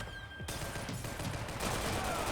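Gunfire in Max Payne 3 during a shootout on a party boat: a sudden loud shot is followed by a dense, continuous barrage with repeated cracks that intensify toward the end, with no talk.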